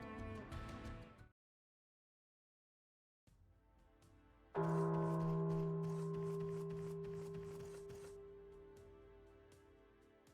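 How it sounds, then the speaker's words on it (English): A bell in the Final Fantasy VII Ever Crisis video game is struck once after a brief burst of game music and a short silence. Its clear, sustained tone rings out and slowly fades over several seconds. "The sound of the bell."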